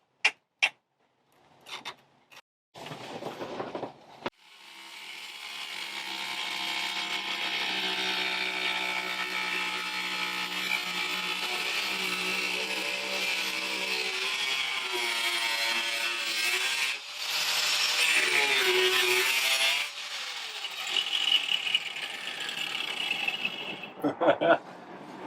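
A power saw cuts through wood aboard a sailboat for about twenty seconds, a steady grinding whine that shifts pitch as it bites, after a few short clicks and bumps.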